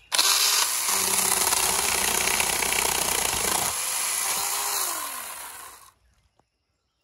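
A small, lightweight chainsaw clearing brush, running steadily and loud and close for about six seconds, with a drop in pitch partway through before it cuts off into near silence.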